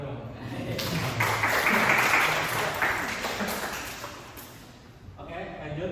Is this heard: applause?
yes